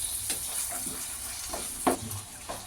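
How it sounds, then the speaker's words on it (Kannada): Puffed rice tossed and fried in a pan gives a soft, faint sizzle broken by several brief scraping strokes as the mixture is stirred. "ಈಗ ಇದನ್ನೆಲ್ಲ ಚೆನ್ನಾಗಿ ಮಿಕ್ಸ್ ಮಾಡಿಕೊಂಡು ಚೆನ್ನಾಗಿ ಫ್ರೈ ಮಾಡ್ಕೋಬೇಕು."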